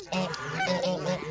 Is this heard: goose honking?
yes